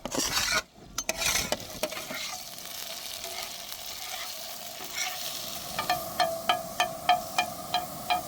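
Raw diced potatoes sizzle steadily in hot oil, with a spoon stirring and scraping the pan in a regular rhythm toward the end.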